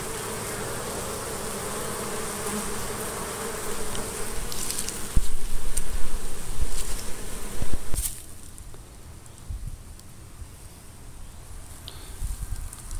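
Honeybees hum in a dense, steady buzz around an open hive outdoors, close and continuous with brief rustling and handling noises partway through.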